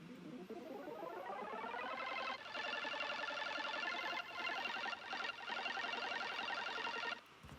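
An electronic pop synth arpeggio made in Logic Pro runs through the top notes of a chord progression, rising in pitch at first and then holding steady. The steady rapid pulsing is soft and alone, and it slows near the end.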